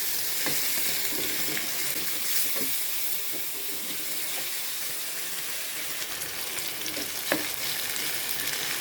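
Pieces of liver for igado fry in a pan with a steady, close sizzle and hiss, broken by occasional faint stirring clicks.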